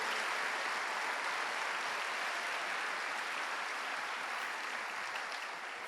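A church congregation at a religious congress applauds: steady, faint clapping from a crowd, heard from a distance and continuing evenly throughout without pause.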